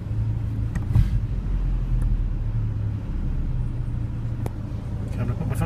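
Engine of a 1993 Nissan truck idling with a steady low rumble and faint tonal hum, with brief clicks and knocks over it, while a person speaks intermittently nearby.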